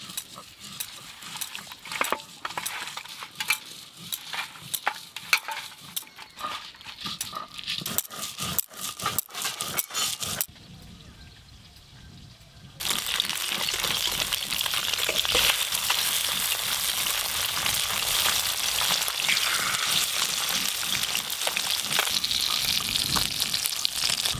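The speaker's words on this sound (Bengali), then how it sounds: "বাটা মাছগুলো একদম হালকা করে ভেজে নিয়েছি" Bata fish frying lightly in oil crackles and spits with dense irregular pops, then after a short lull settles into a loud, steady sizzle.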